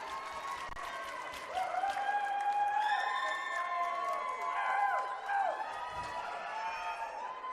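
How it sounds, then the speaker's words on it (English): A very large crowd at a varsity ice hockey rink roars and cheers continuously after Beach Cities ties the game on a power-play goal, with whoops and shouts rising and falling over the sustained din. "the crowd here goes absolutely nuts as they've been waiting for Beach Cities to get the goal"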